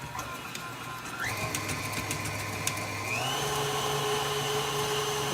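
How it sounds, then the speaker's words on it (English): An electric meat grinder grinds beef and bacon with a steady motor hum that shifts pitch slightly as the meat feeds through, running continuously with no talk. "Let's get some of this beef and bacon grinded up now."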